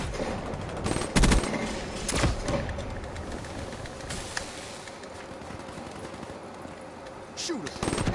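Rapid automatic gunfire in a PS4 shooter, dense bursts of shots with several louder cracks early on, then continuous crackling fire and a rattling burst near the end.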